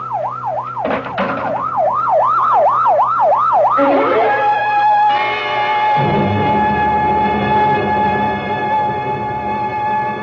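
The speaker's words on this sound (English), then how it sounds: "better get that ambulance out here fast" Loud wailing ambulance siren with a fast warbling pitch, then shifting into a sustained steady tone with engine rumble underneath.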